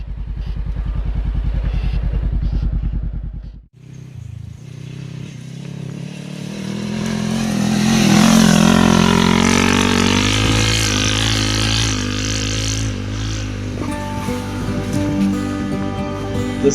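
A Honda CB500X motorcycle rides off-road, its engine loud and close, dropping away briefly, then building again into a strong revving climb, with gravel clatter underneath.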